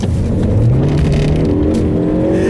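A 2013 Ford Focus ST on a wet surface accelerates hard, its engine note climbing steadily in pitch as it pulls through the gears, loud and close with continuous road and tire noise beneath.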